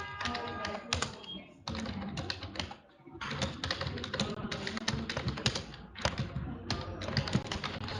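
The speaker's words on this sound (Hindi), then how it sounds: "कोशिश करनी है कि आपने साथ साथ बोल के टाइप करना है" Fingers type on a computer keyboard in a typing class, fast bursts of close key clatter broken by a few short pauses, fairly quiet overall.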